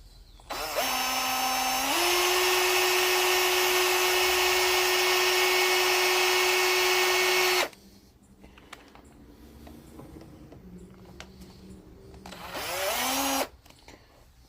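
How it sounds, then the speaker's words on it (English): A power drill with a step bit whines loudly and steadily for several seconds as it bores through material, stops, then spins up again briefly near the end. "I'm going to drill that hole"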